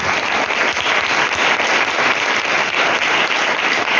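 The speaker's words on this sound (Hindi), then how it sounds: "कोई यीशु के लिए तालियां बजाएगा" A prayer convention congregation gives loud, dense, sustained applause for Jesus, a steady roar of many hands clapping close by without speech.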